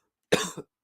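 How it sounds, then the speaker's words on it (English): A person coughs twice at close range, a harsh burst followed a moment later by a second short hack, with no talking in between. "Sorry for all my coughing, everybody."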